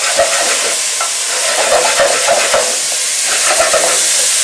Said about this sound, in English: There's our coriander stalks, that's going in.